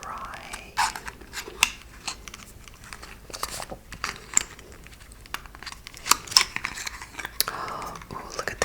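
Makeup packaging from a Gucci haul being opened in a close, quiet ASMR setting, with crinkling, rustling and sharp clicking handling sounds arriving in irregular bursts.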